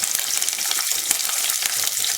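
Close sizzling of onions and garlic sautéing in hot oil for a fish curry, a steady crackle with occasional stirring clicks, no voices.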